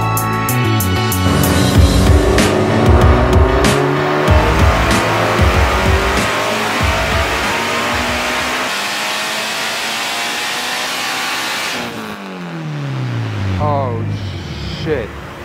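An 800 hp big-turbo Mitsubishi Evo 9 engine revs hard, pitch sweeping up and down in loud repeated pulls, then drops off sharply near the end before a brief rise.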